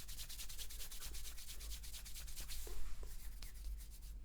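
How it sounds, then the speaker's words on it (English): Up close, a hand rubs over skin and fabric in quick, steady scratchy strokes, soft and even, with no talking. "This side definitely is not as fun to rub because of the cream on there"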